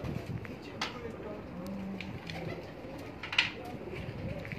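A pigeon coos a few low, soft calls from a rooftop loft, with other faint bird chirps and a brief voice nearby against light background noise.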